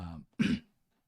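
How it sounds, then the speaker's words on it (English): A single gruff throat clearing, close and fairly loud, following a brief burst of low vocal sound. "Just gonna clear my throat."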